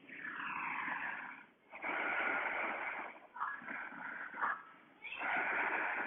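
Deep, slow breathing in a yoga locust pose on the floor, with long sustained breaths in and out repeating in steady cycles, close and fairly loud with no talking.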